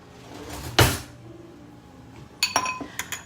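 A spoon clinks against a bowl while eggs are prepared for a frittata in a home kitchen, giving a dull knock and then a quick cluster of bright, close metallic taps, with no talk.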